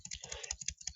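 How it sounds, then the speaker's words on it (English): The Shift key on a computer keyboard pressed rapidly again and again, a quick run of about a dozen crisp, close plastic clicks in one second. "by hitting the Shift key several times"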